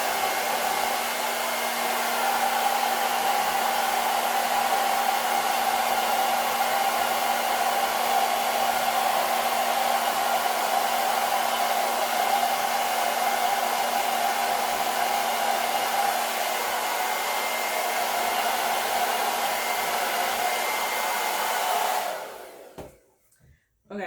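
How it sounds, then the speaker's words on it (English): A hair dryer blows steadily and loudly over a resin pour on an abstract painting, a constant broadband whoosh with a faint hum that runs unbroken for over twenty seconds before cutting off abruptly at the end. "my blow dryer. I'm going to turn it on."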